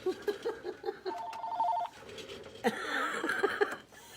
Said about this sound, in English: there's the family probably calling